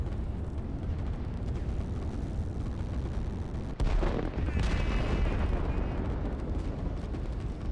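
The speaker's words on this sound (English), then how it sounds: "Here comes the rocket. The first rocket." Rocket artillery fire in the strategy video game Line War, heard as a continuous loud rumbling barrage that surges after a brief dip, with a thin whistling streak of rockets over the roar and no talking.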